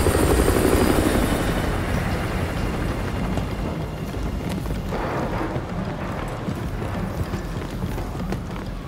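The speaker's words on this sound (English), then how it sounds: "Enemy helo patrolling the perimeter." Enemy helicopter on patrol in Call of Duty: Modern Warfare 2, a steady loud rotor drone filling the whole span with a rumbling, choppy texture and no voices over it.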